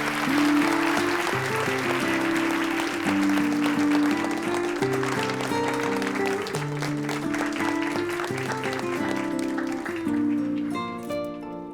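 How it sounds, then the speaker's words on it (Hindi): An audience applauds steadily as a guest is called onto the stage at an event, the clapping running throughout beneath loud music with shifting notes. "अब आपकी जोरदार तालियों में नायला उनाल को मैं स्टेज पर बुलाना चाहूंगा।"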